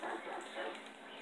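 A dog barks and yips inside the Grand Theft Auto V video game, a few short, faint calls over a continuous game background with no talking.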